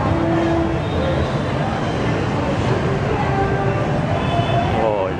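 Motorbike traffic fills a busy Saigon street with a constant roar of engines and tyre noise, with brief horn tones rising above the steady rumble.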